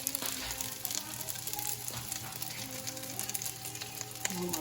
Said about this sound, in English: so I just put some butter up in here. We're gonna go ahead and we're gonna add our vegetables.